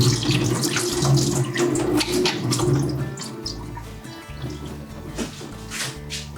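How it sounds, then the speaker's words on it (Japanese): Tap water runs steadily as horse mackerel innards are rinsed out in a kitchen sink, a close, continuous splashing stream with gurgling and shifting flow. "そして内臓をしっかりと水で流してやって、"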